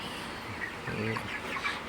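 Broiler chickens cluck softly in a steady, noisy farmyard background, with a few short calls rising midway through.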